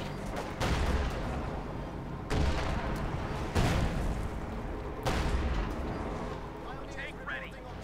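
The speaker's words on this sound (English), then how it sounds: "There goes Sturmgeschütz firing." A Sturmgeschütz assault gun fires in a Company of Heroes 2 one-versus-one match, with several heavy booms spaced a couple of seconds apart over steady battle noise while a commentator talks.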